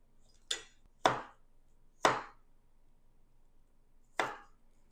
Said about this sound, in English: I'm not going to go crazy with the garlic as far as cutting it up